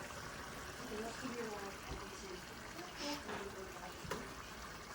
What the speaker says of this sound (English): the noodles are done. So we'll drain them for just a second.